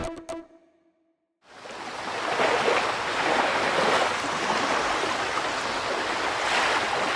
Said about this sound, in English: This water's filling up.